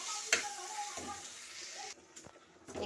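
Water poured into a pan of frying spices with aubergine and bitter gourd, a sizzling hiss with stirring scrapes that drops abruptly to quieter bubbling, close by.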